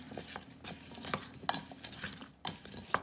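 A green onion marinade with salt and pepper is stirred close up in a bowl, with soft, irregular scraping and clinking of a utensil against the dish in quick bursts and no talk over it.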